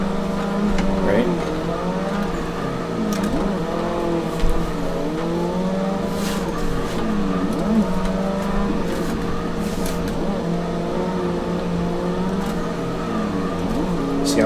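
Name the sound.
car drifting with e-brake in Assetto Corsa racing video game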